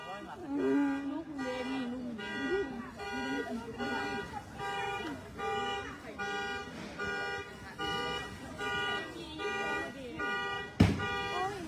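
A fire truck siren at night during a fire in the old town of Luang Prabang cycles in repeated rising-falling wails at moderate distance, with people talking over it and a sharp knock near the end.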